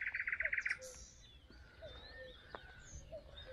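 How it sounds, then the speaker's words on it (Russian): Small birds chirping on a pier by a canal, a quick burst of high trilling notes at the start followed by faint scattered chirps over a quiet low outdoor hum. "Вон, птички даже здесь ходят, бегают."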